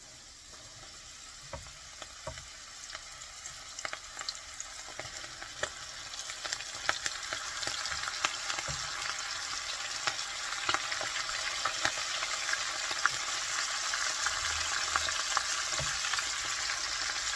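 Squid pieces go into hot oil in batches and fry with a steady, close crackling sizzle. Sharp pops and spatters break through now and then and grow denser as frying goes on.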